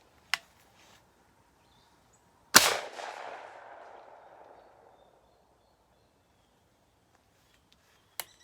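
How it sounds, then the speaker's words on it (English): A 1957 Remington Sportsman 58 16-gauge shotgun loaded with high-brass shells fires one loud, sharp blast with a long echoing tail outdoors. Fainter mechanical clicks come just before and a little after it. "So I'm going to fire a few shots for you here."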